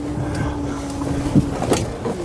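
A Mercedes Sprinter van, just repaired, pulls away with a steady engine hum and a low tone, plus a couple of brief knocks partway through; no one speaks.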